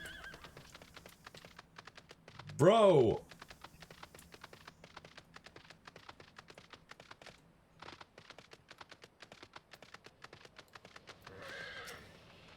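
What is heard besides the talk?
horse galloping and neighing in video game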